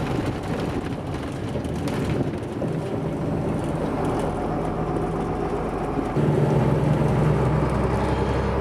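A used Steyr 1291 truck, formerly a fire-brigade vehicle, runs with a steady, moderately loud engine drone and wind rumbling across the microphone, with no voices.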